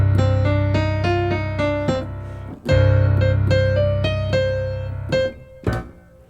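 Piano plays the first line of a song with both hands together, a low sustained bass under a clear melody of evenly spaced chords, with a brief pause before the phrase resumes and ends on a held note.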